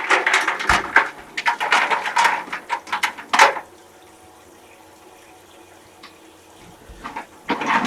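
Water splashes and rushes as sand is rinsed inside an acrylic fish tank, a busy, close, irregular burst of sloshing for about three seconds, then quiet with only a faint later trickle.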